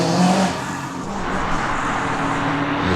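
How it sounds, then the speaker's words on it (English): Engine of a Nissan GTR Skyline race car labouring up a hillclimb course at Legend of the Lakes, a continuous strained roar with shifting pitch, heard from a distance over open air. "the Dave Riley entry, the GTR Skyline now making its way to the top of the hill"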